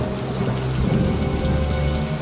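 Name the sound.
heavy rain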